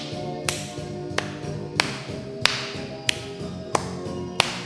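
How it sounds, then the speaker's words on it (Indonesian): Claps ring out from a Sunday school congregation during a praise song, sharp beats spaced evenly about two-thirds of a second apart over a soft musical backing with singing. "Yuk dengan tepuk tangan semuanya"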